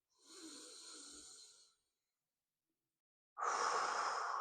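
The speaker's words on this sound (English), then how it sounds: "So take a deep breath in." Two slow, deep breaths are drawn in close to the ear. The first is a soft airy inhale lasting over a second, followed by silence and then a louder, rougher breath in.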